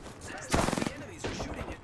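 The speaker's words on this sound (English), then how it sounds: "The enemies are shooting at me." Enemies fire at the player in the video game Apex Legends, a short rapid burst of automatic gunfire followed by fainter shots, with a voice speaking around them.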